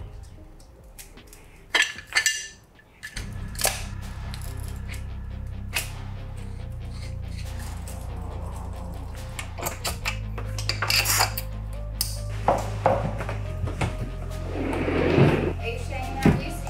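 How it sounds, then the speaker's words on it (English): Silica gel beads clatter and clink as they are poured back into their container, with hard rattling bursts and scattered ticks while a person talks. "We'll put them back in their container"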